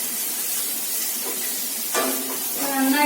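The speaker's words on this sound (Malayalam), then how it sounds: "നന്നായിട്ട് ഉള്ളി വഴന്ന് വരട്ടെ." Onions sautéing with salt in a pan for a toddy shop style pork fry, a soft steady sizzle and hiss with a few stirring scrapes near the end.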